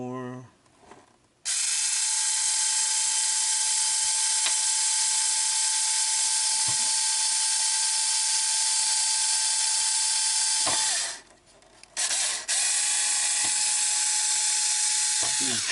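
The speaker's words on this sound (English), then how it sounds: "This is just my 4-volt electric screwdriver." Close, loud high-pitched whine of a 4-volt electric screwdriver boring a hole in the plastic body of a 1/8 ARRMA Outcast RC car, one long steady run of about ten seconds, a brief pause, then another burst, with a voice briefly at the start.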